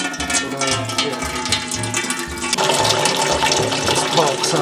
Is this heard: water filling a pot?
yes